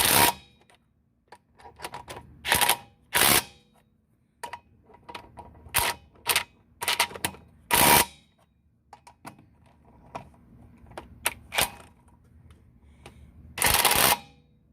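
An impact gun set to 80 foot-pounds during an oil change and brake check, firing in short, sharp, loud bursts separated by quiet gaps, close by with no talking.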